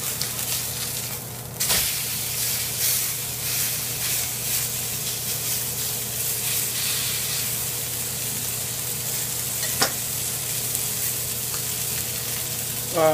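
A ribeye steak sizzles loudly in a pan just after being flipped, a dense, continuous crackling hiss with a few brief clicks, up close and without talk.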